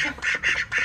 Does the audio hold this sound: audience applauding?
no